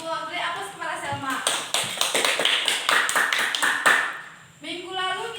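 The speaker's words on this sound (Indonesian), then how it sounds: "April, aplaus kepada Selma." Classroom applause for a student, a burst of many hands clapping in quick irregular rhythm that rises and then fades, with talk before and after.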